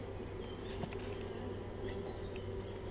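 Honeybees buzz steadily around a small hive box during a swarm capture, a dense continuous hum close by with a few louder individual bees passing near, no talking.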